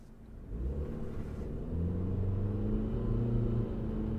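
2025 Subaru Forester pulling away from a standstill, heard from inside the cabin as a low engine rumble that rises steadily as it accelerates, with no talk.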